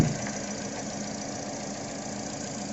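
A Toyota Altis engine with a faulty ignition coil pack, running rough and misfiring, holds a steady mid-pitched idle drone with an uneven knocking undertone, close and continuous, with no voices.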